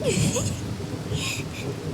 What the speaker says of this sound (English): Oh, now it's raining.